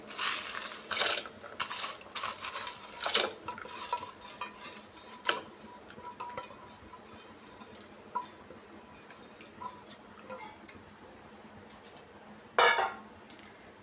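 Small hard lentils and mung beans patter and clatter into a metal pressure cooker in bursts, with scraping and clinking of a spoon against the rim.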